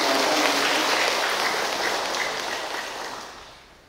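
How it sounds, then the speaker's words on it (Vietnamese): A congregation applauds a newly married couple during a Catholic wedding mass in a parish church; the dense, steady clapping fills the room and slowly fades toward the end, with no talking over it. "Chúng ta cùng một tràng pháo tay để chúc mừng anh chị."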